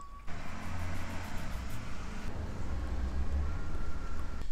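A loud truck rolls past on a quiet residential street, its engine a steady low rumble that fills the whole stretch with continuous road noise and no talking.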